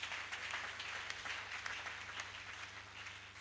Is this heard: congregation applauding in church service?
yes